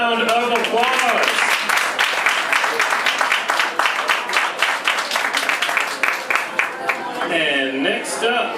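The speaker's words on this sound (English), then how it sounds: "huge round of applause" An audience at a film festival filmmakers' panel gives a long round of dense, steady clapping, with voices speaking briefly at the start and again as the applause fades.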